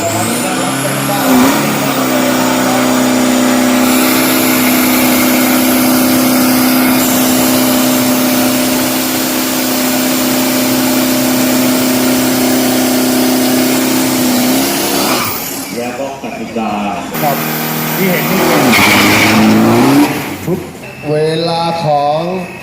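Turbo diesel pickup trucks on radial tyres drag racing at a strip, a loud sustained engine roar and drone that shifts and revs in bursts near the end, with a commentator talking over it.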